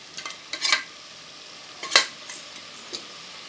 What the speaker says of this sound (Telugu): ఇంకా బాగా కలపాలి. కలుపుతూ ఉండాలి ఫ్రెండ్స్.